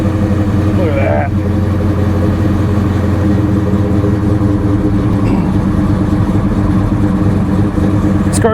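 A neglected 2002 Chevy Silverado GMT800 that sat for about two years idles steadily and loudly nearby with a squeaky belt, a constant low rumble while people talk over it.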